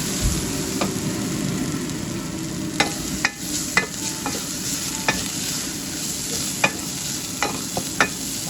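Black-eyed pea curry ingredients being stirred in a frying pan: a steady low sizzle of frying runs throughout, broken by repeated sharp scrapes and clinks of a spoon against the pan, close and fairly loud, with no talk.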